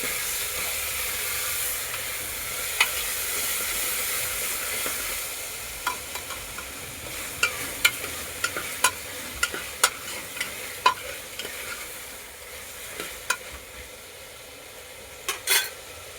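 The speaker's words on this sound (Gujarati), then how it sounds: "એમાં ટમેટા અને મરચાં નાખી દેવું પાછા અને આપણે મિક્સ કરી લેવું આ રીતના." Tomatoes and chilies frying in oil in a pan for Kathiyawadi-style vaghareli khichdi, a constant soft hiss broken by scattered clicks and scrapes of stirring, close by with no voices.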